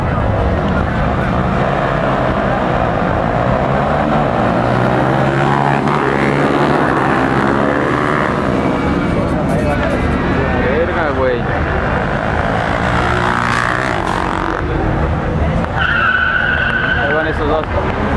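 Motorcycles roar past in an illegal street drag race in Morelia, engines loud and revving continuously over a dense, noisy crowd, with people talking throughout.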